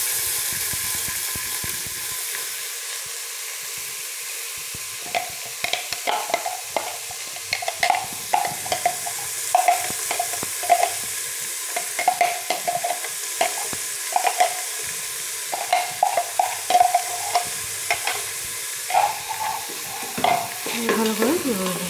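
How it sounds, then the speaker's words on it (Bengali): Sliced onions fry in hot oil with whole spices in a pan for a spicy Bengali mutton curry, a constant close sizzle broken by repeated clicking and scraping strokes of the stirring spoon, with no talk. "এবার দিয়ে দেবো পেঁয়াজটা।"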